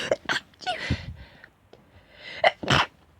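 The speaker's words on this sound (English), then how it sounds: "And I'm gonna sneeze." A person sneezes several times in quick bursts, sharp breathy explosions with short gasps between, close and fairly quiet.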